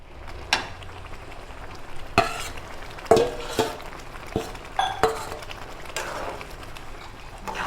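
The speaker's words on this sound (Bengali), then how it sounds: "মশলার সঙ্গে কচুগুলোকে মিশিয়ে নেব।" A spoon stirs bish kochu (taro) into fried spices in a cooking pan, giving about eight sharp scrapes and clinks at uneven intervals over a faint sizzle, with no voices.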